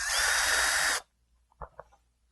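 A power drill spins out Phillips screws from the driver-side lower door panel of a 2000–2002 Chevy, one loud close whirring burst about a second long, then quiet with a few small clicks and handling knocks.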